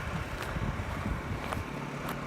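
A construction generator and a Honda EU2200i inverter generator run together with exhausts aimed toward the listener, heard from a distance as a steady, faint low drone under light wind noise.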